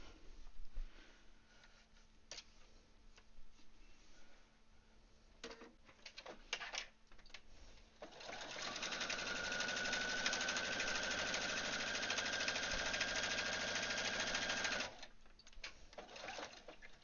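A sewing machine stitches a garment being altered, starting with a few short bursts and then running steadily and loudly for about seven seconds before stopping, with scattered handling noises around it.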